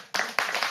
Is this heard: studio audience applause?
yes